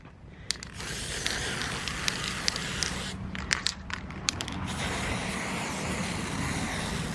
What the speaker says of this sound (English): Use some of the gold spray paint.